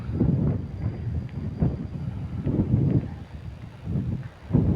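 Cool wind gusting across a microphone at a wildlife viewing point on Khao Phaeng Ma, Wang Nam Khiao, Nakhon Ratchasima, Thailand, with low rumbling buffets that swell and fade in uneven waves, close and fairly loud.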